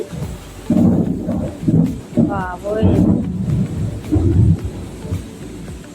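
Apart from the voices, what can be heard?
loud thunder during heavy rain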